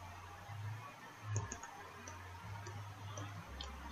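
Computer mouse clicks while working in 3D roofing software, a few soft, sparse taps spread over a steady low hum, close and quiet with no talking.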